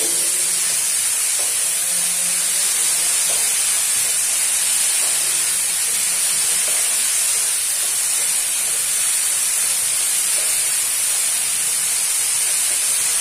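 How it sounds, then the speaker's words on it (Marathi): Soaked poppy seeds roast in a pan for a paneer kofta curry gravy, giving a constant sizzling hiss that stays even and unbroken from start to finish. "खसखस आहे भिजवलेला, तो खसखस पण यामध्ये भाजून घेते."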